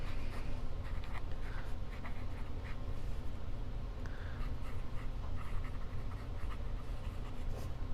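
Fountain pen with a fine nib writing on paper, a soft continuous scratching of nib on the sheet with small stroke-by-stroke bursts, close and quiet with no talking.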